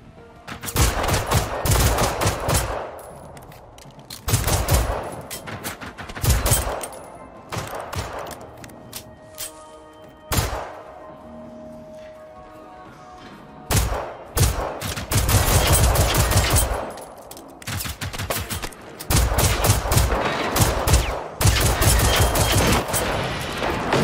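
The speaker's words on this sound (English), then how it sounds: "Shotgun works good" Gunfire from a shotgun in the video game Generation Zero during multiplayer play: loud, close blasts come in bursts of rapid shots, separated by quieter gaps.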